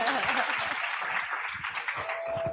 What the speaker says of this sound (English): if we can get a round of applause for all the wonderful women